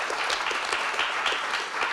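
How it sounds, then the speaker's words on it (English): A conference audience at a closing session in Riga, Latvia gives a round of applause, a dense, steady wash of many hands clapping that fills the whole stretch at even loudness. "Give you a round of applause"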